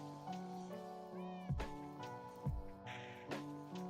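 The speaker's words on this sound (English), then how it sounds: "The cat meowing is in the song, just FYI." Repeated cat meows sound within a song, rising and falling over tonal musical backing, with sharp percussive hits at intervals.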